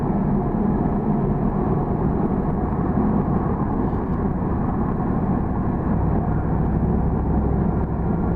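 A 1978 Chevrolet Camaro cruises at about 60 mph as it shifts into fifth gear, a loud, steady engine and road drone inside the cabin that holds even throughout.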